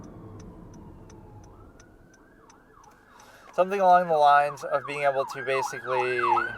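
An emergency siren wails in the background, starting faint and distant before jumping louder with rising and falling sweeps, while a person talks over it throughout.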